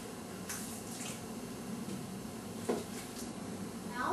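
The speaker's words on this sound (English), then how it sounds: "I'm going to put 2 1/2 cups of the water" Water pours steadily into a bowl of takoyaki batter ingredients, a continuous soft splashing stream with a small splash near the end, heard close and alone.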